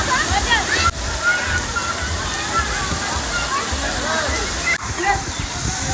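Constant churning splash of water in a water park swimming pool, a loud, close, unbroken rush of sloshing and falling water, with faint voices underneath.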